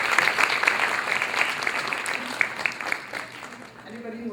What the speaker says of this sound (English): please let's give them a resounding round of applause